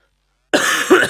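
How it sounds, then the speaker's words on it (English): A single short, harsh cough erupts close to the microphone after a moment of silence, from someone still recovering from a flu. "Sorry for the cough."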